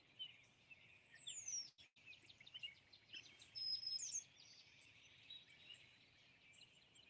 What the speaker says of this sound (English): I heard the bird.